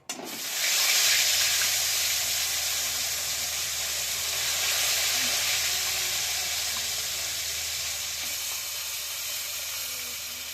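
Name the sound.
koi fish frying in hot oil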